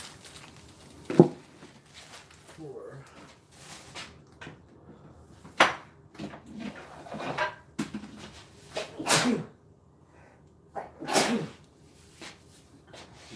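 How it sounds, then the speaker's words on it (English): A single sharp sneeze in a home kitchen while cooking, with scattered knocks and clatter of kitchen work around it and no talking. "That's the proper way to sneeze in the kitchen."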